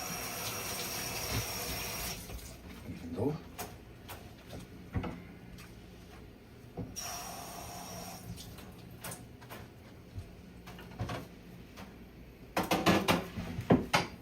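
A kitchen tap runs to wash something out while cabbage and saltfish dumplings are made. Water gushes in a few separate bursts over quiet clatter in the room, with no talking.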